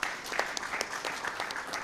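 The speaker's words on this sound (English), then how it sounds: "Round of applause to that," Applause from an audience at a regional agroecology summit in Uganda, a brief burst of many hands clapping in a dense, even patter, moderately loud and close, with no speech over it.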